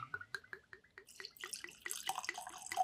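Cask strength whiskey poured from freshly opened bottles into two glasses, a close run of bright drips and splashes building into a steadier liquid trickle with faint clinks near the end.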